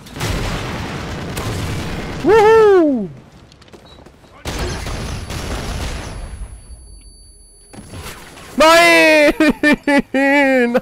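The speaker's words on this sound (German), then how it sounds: "Aber hey, ich hab einen mit dem Raketenwerfer gekriegt." Rocket launcher blasts in a video game, several loud booming explosions with rumbling tails, mixed with game music tones and chirping effects, and bursts of gunfire-like crackle near the end.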